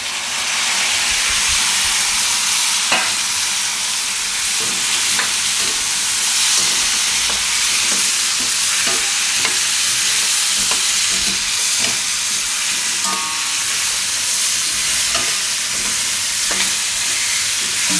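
Tomatoes cooking in a pan give off a loud, continuous sizzle and steamy hiss, with occasional light spatula taps and scrapes spaced through the steady frying.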